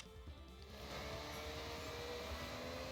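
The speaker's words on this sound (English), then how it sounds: "over the sound of the engines and whatnot" Car engines drone steadily in the Forza Horizon 6 racing video game, a low continuous hum that rises slightly after the first second and holds at a quiet, even level with no voices.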